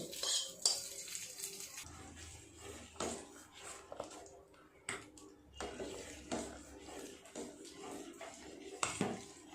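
Milk being stirred in a pan while it reduces for payesh, with repeated scraping and clinking of a spoon against metal in irregular bursts, fairly quiet, no voices.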